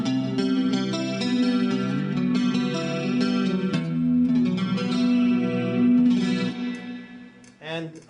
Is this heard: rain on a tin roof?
no